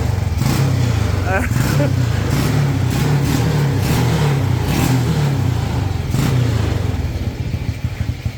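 A Honda Wave motorcycle engine fitted into a three-wheeled vehicle revs loudly and continuously up close, with a low rumbling drone that swells and eases, while someone talks over it.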